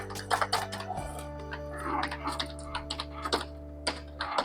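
Quiet, close keystrokes tap out an email ID on an Asus laptop keyboard in short irregular bursts over a steady low hum.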